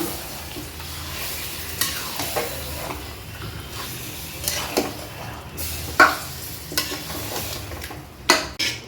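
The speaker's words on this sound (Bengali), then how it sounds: "এইবার আমি মাংসটাকে একটু কষিয়ে নেব" Chicken meat for biryani frying in a pan, a soft sizzle under repeated scraping and stirring strokes, with several sharper clanks of the utensil against the pan.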